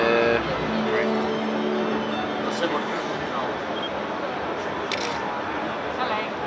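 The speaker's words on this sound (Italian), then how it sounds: "Scatto molto veloce e devo dire anche abbastanza buono." A Huawei Ascend Mate phone's camera shutter fires, a few quick synthetic clicks over the busy hum of a crowded trade-show floor at MWC 2013.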